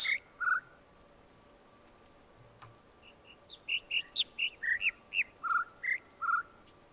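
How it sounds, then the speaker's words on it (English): Birds chirp in a video game world: a couple of bright calls open, then after a pause a quick, regular series of short sharp chirps repeats at a steady pace over a quiet, faint ambient background. "I can hear the birds."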